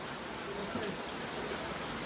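Steady, dense rain hiss on an outdoor farmyard surface, constant and fairly loud throughout, with no distinct voices rising above it.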